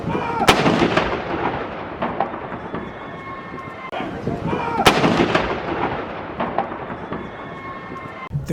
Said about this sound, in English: Plus, there was a 21-gun salute.